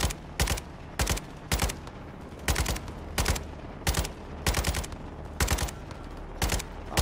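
Bursts of automatic gunfire in the video game Modern Warfare 2, short sharp volleys repeating about every second at a steady rhythm, loud and close, with no talking.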